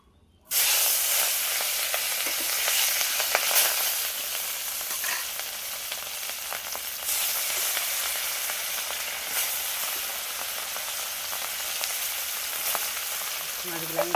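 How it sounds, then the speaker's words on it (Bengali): Pieces of rohu fish frying in hot oil in a kadai, a loud continuous sizzle that starts abruptly and holds steady throughout. "মাছগুলো আমি ভেজে নিয়ে তোমাদেরকে শেয়ার করছি।"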